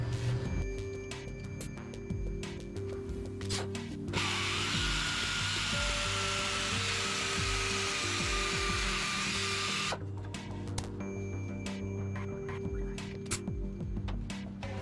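A power drill bores out rivets on the cab of a 1949 Jeep Willys pickup in one steady, high whining burst of about six seconds, with a lower motor hum and clattering before and after, and no talking.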